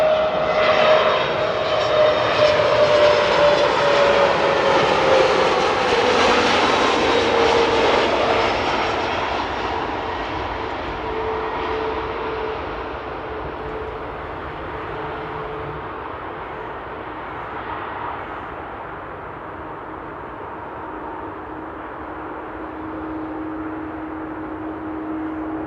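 An airliner landing at Amsterdam Airport sweeps past with a loud engine roar and a descending whine that peak early, then fade into a distant, lingering low rumble with a faint steady tone, no voices.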